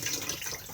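A Thetford cassette toilet in a Swift Lifestyle 6 caravan flushes, giving a short, close rush of running water that hisses steadily for under a second.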